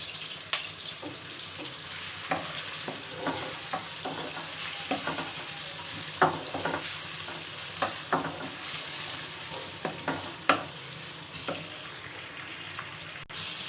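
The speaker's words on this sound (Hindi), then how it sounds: "प्याज को हम गोल्डन गोल्डन ब्राउन कर लेंगे। अनियन को हम सौते करेंगे।" Onions sautéing in a pan for a cauliflower curry, frying toward golden brown: a steady close sizzle with repeated scraping stir strokes at an uneven rhythm, no talking.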